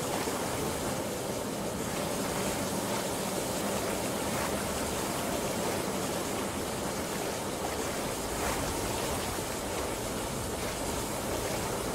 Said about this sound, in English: Yeah, steam and bubbling.